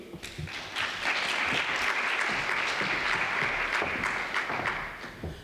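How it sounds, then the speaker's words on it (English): A conference audience gives a full round of applause, its dense clapping swelling quickly, holding steady for several seconds, then thinning out. "I think that deserves a round of applause."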